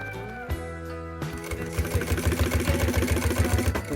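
A sewing machine stitches fabric for a bikepacking frame bag, starting with a few slow single clunks and then settling into a fast, steady mechanical chatter of the needle, close and loud with no talk.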